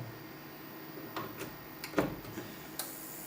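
A power supply unit driving an inverter with an electric saw load gives off faint irregular ticks and chirps over a low steady hum, four or five small clicks scattered across a quiet background.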